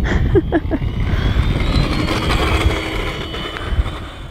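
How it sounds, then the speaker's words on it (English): An FMS Zero 1100mm RC airplane on a 3S battery takes off in strong wind, its electric motor whining steadily under gusty wind noise, with a few brief thumps early on. "That was a great takeoff, honestly, considering all the wind."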